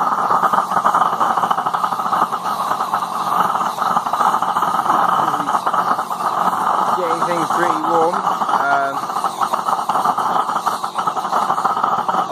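A small waste-oil forge burner with a new fuel-air mix, pre-heat and flame tube roars steadily at close range, its loud broadband rush surging slightly throughout, with a faint voice briefly audible.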